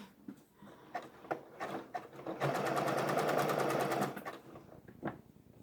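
Janome MB-series embroidery machine stitching a quilt-in-the-hoop appliqué block, a rapid mechanical rattling run of about two seconds amid quieter handling clicks and taps.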